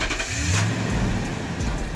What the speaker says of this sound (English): and then the truck starts.